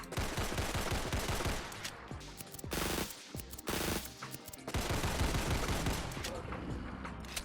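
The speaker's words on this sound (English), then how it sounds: "let's see how many shots it takes to put down a Deathclaw" Rapid bursts of Borchardt C-93 pistol shots fired at a Deathclaw in Fallout 4, loud and dense, with a brief lull in the middle before firing resumes.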